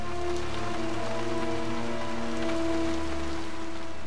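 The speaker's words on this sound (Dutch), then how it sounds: "Voor het eerst in 3 weken valt de regen met bakken uit de lucht." Heavy rain pours down in a steady, loud, dense hiss that stays unbroken throughout, with no voices.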